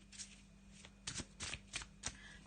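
Tarot cards from a Faulkner Tarot deck handled on a quiet surface, with several soft papery slaps and slides spaced irregularly and a faint steady hum underneath.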